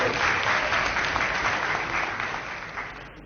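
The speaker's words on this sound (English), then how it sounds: "I would like to request all of the delegates just give a round of applause for the University Authority for their extensive support." A hall full of delegates at a university final ceremony in Dhaka breaks into sustained, dense applause that fades slightly toward the end.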